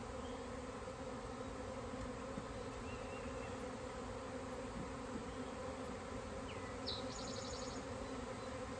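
A honey bee swarm being hived drones in a dense, steady buzz, loud and close throughout, with a few brief higher whines from single bees passing near.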